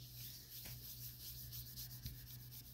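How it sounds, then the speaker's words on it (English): An ink blending brush rubbed on paper to test yellow ink, giving a soft, steady scrubbing texture close by with a couple of brief taps, no talk. "Check my brush here just to make sure we got yellow. I'm just going to rub it on here"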